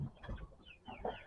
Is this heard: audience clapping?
no